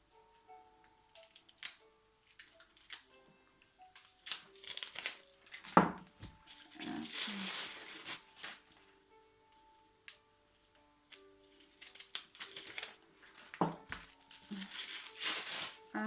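Unscented tealight candles are unwrapped from their packaging, with faint close crinkling and tearing of foil and plastic, small taps and clicks, and brief rustling bursts, no voices.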